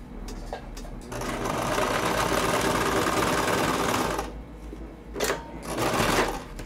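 Close, loud sewing machine stitching fabric in a steady whirring run of several seconds, with brief mechanical clicks and handling noises before and after.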